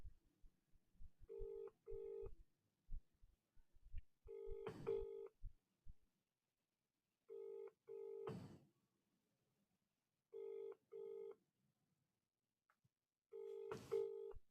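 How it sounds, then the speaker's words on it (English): A telephone call rings out unanswered, sounding a repeated double-burst ring tone at regular intervals, faint and thin like audio heard through a phone line, with small clicks between rings. "Oh, it's ringing."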